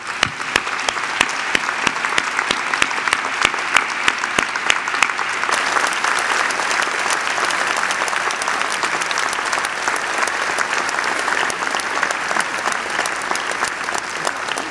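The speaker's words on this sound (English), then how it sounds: "I'm gonna ask you to give yourselves a big round of applause." McGill graduates of 2022 applaud themselves at their convocation ceremony in a long, loud, sustained wave of clapping from a large crowd that thickens into a steady roar after the first few seconds.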